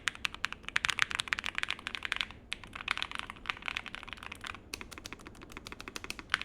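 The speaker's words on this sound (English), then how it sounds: "I've also really loved the sound on this keyboard." Rapid clacking of keys on a Nuphy Air 75 V3 mechanical keyboard, close and crisp, in quick uneven bursts with a couple of short pauses.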